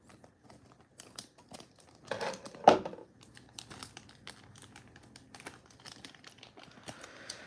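Plastic and cardboard packaging for a Beasts of the Mesozoic Dromaeosaurus albertensis dinosaur figure is torn and cut open, giving close, quiet crinkling and rustling with a brief louder rip midway.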